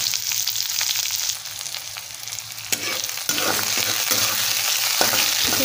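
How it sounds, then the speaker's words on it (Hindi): Fenugreek leaves, chopped onion and capsicum frying in hot oil, a steady close sizzle with stirring scrapes and a couple of sharp clatters; no voices. "अब मेरी तेल गर्म हो चुकी है। मैं यहाँ पे अपना मेथी पत्ता डाल दूँगी और जो मैंने चॉप किया हुआ है प्याज"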